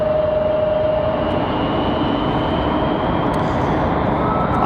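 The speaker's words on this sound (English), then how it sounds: "United going to go with the long roll. Going to lose that 737-700." A United Boeing 737-700 jet on its takeoff roll at Raleigh-Durham International Airport gives a steady, broad, distant roar with a thin sustained whine, heard alone without talk.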